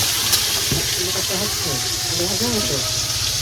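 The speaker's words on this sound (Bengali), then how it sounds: "আলু ভাজা" Potatoes fry in a pan, giving a steady broadband sizzle and hiss throughout, with people talking over the cooking.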